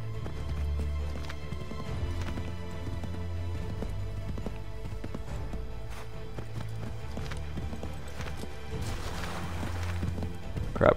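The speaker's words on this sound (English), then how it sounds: "Oh, now I can spur the horse." Horse hooves clip-clopping at a run in the video game Assassin's Creed 3, a steady rhythmic pounding held over game music and ambience, with a brief louder burst near the end.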